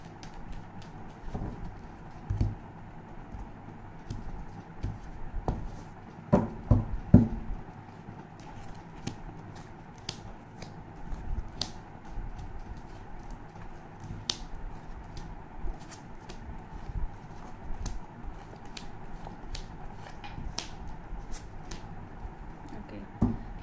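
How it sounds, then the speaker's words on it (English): A deck of tarot cards is shuffled at close range, giving soft riffling and slapping bursts with scattered sharp card snaps over about twenty seconds; a few louder rustles come early on, and no one speaks. "Last shuffle, please."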